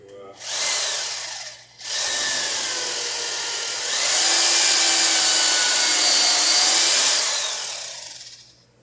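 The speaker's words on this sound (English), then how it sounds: "make sure I'm drilling in just the right spot" A power drill whines steadily as it bores into wood while building a wooden boat, loud and close, with a short pause before the motor picks up again and runs for several seconds.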